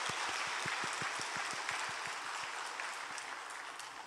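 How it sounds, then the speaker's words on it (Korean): A church congregation claps in welcome for visiting nursing home residents during a Wednesday morning service, a steady, moderately distant patter of many hands with rhythmic clapping early on that thins slightly toward the end. "우리 잘 오셨다고 박수 한번 보내드릴까요?"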